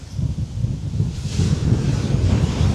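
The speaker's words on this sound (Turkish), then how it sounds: "Çok güzel bir rüzgar var ya." Strong typhoon wind in the Philippines buffets the microphone in a steady low roar, with faint surf-like rushing in the background and no voices.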